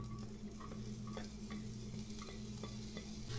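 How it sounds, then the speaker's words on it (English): Onion frying in olive oil for homemade meatballs, a faint continuous sizzle beneath a low steady hum, with light spoon taps and stirring clicks spaced through it, close and without speech. "we'll do about 2 turns of olive oil. And go ahead and start with the onion."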